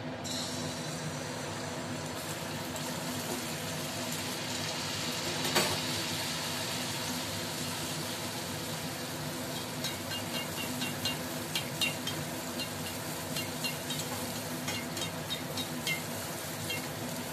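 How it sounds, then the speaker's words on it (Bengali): A malpua pitha batter cake frying in hot white oil, giving a continuous close crackling sizzle with one sharp clatter early on and scattered pops later. "তেল গরম হয়ে গেছে, আমি একটা পিঠে দিয়ে দিচ্ছি।"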